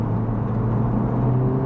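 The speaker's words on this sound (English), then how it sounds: "Okay, third gear pull." Honda Civic Type R FL5 pulling hard in third gear, a steady low engine drone and rumble heard from inside the car, with a faint rising tone and no talk.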